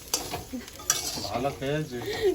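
Pointed gourd, potato and soybean curry with cumin and turmeric powder fries in a pan while a spatula stirs it, making irregular scrapes and clatters over a light sizzle.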